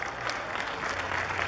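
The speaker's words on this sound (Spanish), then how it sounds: "Fuerte el aplauso" Dense, close applause from the crowd greeting the queen of a spring fair at her coronation in Sierra Hermosa, continuous and even throughout the brief moment.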